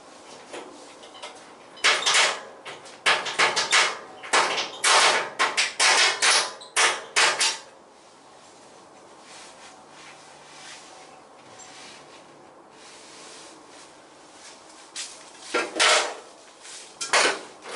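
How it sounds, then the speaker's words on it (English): Metal clanks and bangs ring out in loud bursts as the subframe is dropped out from under a classic Rover Mini Cabriolet under restoration, with a quieter lull in the middle before a final cluster of knocks. "I'll drop the subframe out the way now."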